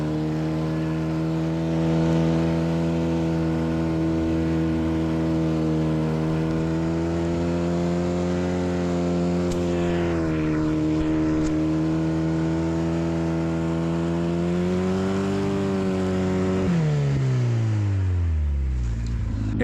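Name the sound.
4x4 buggy toy car driving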